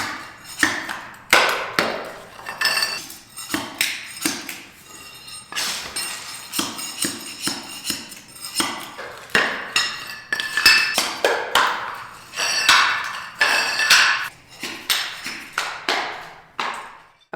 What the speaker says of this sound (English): we have decided to just remove all of the floor tile. This is popping up really easily